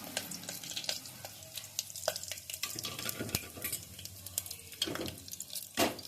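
Whole crushed spices, a small cardamom and a piece of cinnamon among them, frying in hot oil, a steady close sizzle and crackle with occasional clinks and stirring scrapes throughout, no talking.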